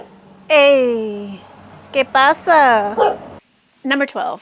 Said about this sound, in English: And here comes my dog's bark.